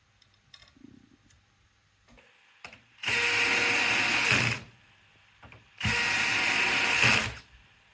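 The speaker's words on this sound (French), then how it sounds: "Positionnez les cornières en bout de lame et vissez-les." Round-head screws driven into corner brackets on a composter's slats with a power screwdriver: two loud, sustained whirring bursts of about one and a half seconds each, separated by quiet handling clicks and taps.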